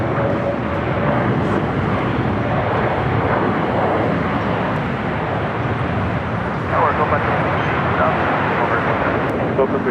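A jet airliner at LAX roars steadily through takeoff, a loud, continuous engine rumble with wind buffeting, heard close and sustained under intermittent radio chatter.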